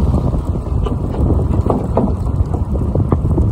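Gusty wind buffets the microphone during an outdoor bike ride at Hammock Bay, a loud, low, rumbling roar with uneven bursts throughout, close and constant with no voices.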